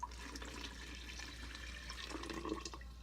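Filtered water pouring into a container while mixing a Nourish feeding tube formula, a steady splashing stream in a kitchen, running continuously and close.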